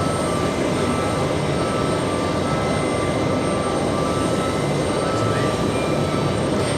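A Russian aircraft departs JFK airport, a steady broadband engine roar filling the whole stretch at constant loudness, heard from a distance with no talk.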